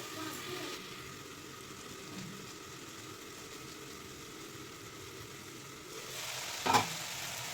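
Vegetables fry gently in a covered pan over medium heat, giving a soft, steady hiss that holds low and even, with a brief clatter near the end; no voices are heard.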